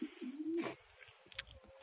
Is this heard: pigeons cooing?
yes